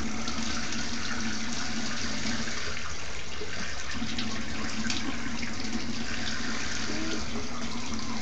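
Water pours from a shower during a child's bath time, a dense, unbroken rushing hiss heard up close, with a brief faint voice under it.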